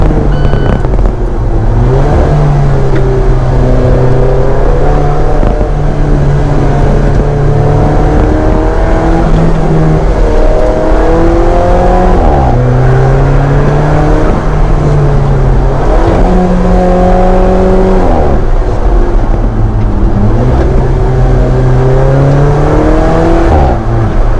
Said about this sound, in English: Four-cylinder, this thing's delivering some nice